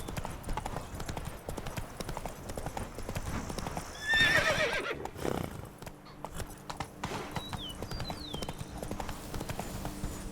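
Steady hoofbeat clip-clop of the horse Roach in the video game Witcher 3, rhythmic and close throughout, with a loud whinny midway and someone talking now and then.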